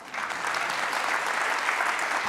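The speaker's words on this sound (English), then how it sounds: "For the cause, and we can clap for that." Audience applause at a public arts policy lecture, a dense steady wash of clapping from a large crowd that swells in quickly and holds at an even level throughout.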